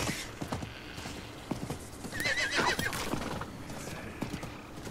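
A horse's hooves clip-clop steadily while riding in the video game Diablo 4, with a short neigh partway through, under faint game ambience.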